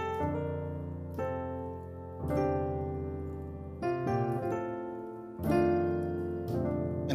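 Piano playing a gospel chord progression in F, full sustained chords changing every second or two, rich and resonant, played alone and close.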